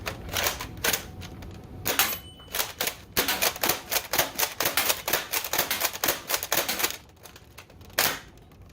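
An Adventure Force Conquest Pro dart blaster, loaded with about 21 darts, slam-fires in rapid bursts. Sharp mechanical snaps run in quick rattling strings with short pauses between volleys.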